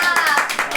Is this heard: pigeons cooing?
no